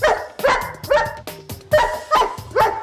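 Close, loud dog barking: about six quick, sharp barks in rapid succession with brief pauses between them.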